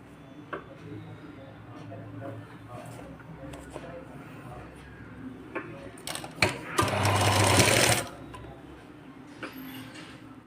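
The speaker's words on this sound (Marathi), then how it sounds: "परत उलट्या साईडने साईडचा टक्स शिवून घेऊ आपण" A sewing machine stitches side tucks on a boat neck designer blouse, its motor humming steadily at a moderate distance and swelling into a louder, faster run for about a second near the end.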